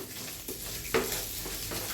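Spices fry in a pan for garlic rice, a soft steady sizzle with a few light stirring clicks and scrapes, close and unbroken by speech.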